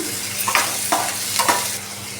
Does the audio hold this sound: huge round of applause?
no